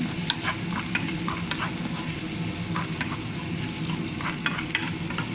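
Chicken sizzles loudly in a hot pan while it is mixed with salt and black pepper, a continuous close frying hiss punctuated by frequent small scraping and tapping stir strokes, with no one speaking.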